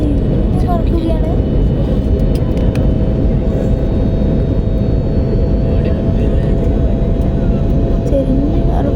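Inside a passenger airplane cruising toward Abu Dhabi, a loud, constant engine and airflow roar fills the cabin with a faint steady tone, no pauses.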